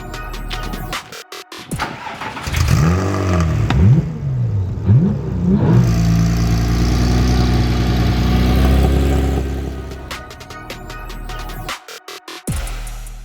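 A Porsche 997 GT3 starts up and revs hard, its engine note sweeping up and down in sharp rising blips before settling into a steady loud idle, then cutting off near the end.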